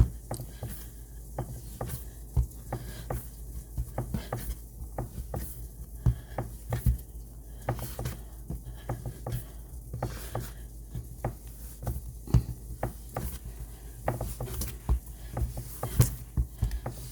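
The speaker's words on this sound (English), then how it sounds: "Continue to knead it." Fresh pasta dough kneaded by hand on a work surface: a steady, soft patter of dull pats and presses, close and continuous, with irregular slightly louder thumps throughout.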